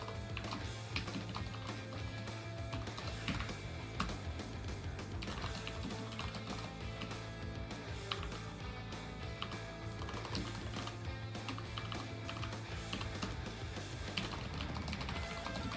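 Rapid, steady keystrokes on a computer keyboard as git commands are entered, a continuous close clatter of taps without pauses and no talking.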